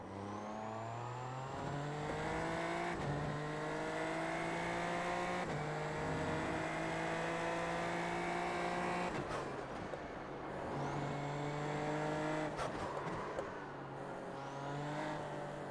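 A Super Formula Lights open-wheel race car in iRacing, its engine revving high and sharp through repeated upshifts, each climb in pitch broken by a quick gear change, loud and steady with no talk.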